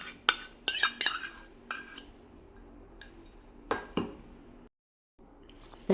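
A spoon works a spoonful of curd into a dried powder mix in a bowl, giving several sharp clinks and scrapes in bursts, then quieter stirring with a brief silent gap, close and with no voices.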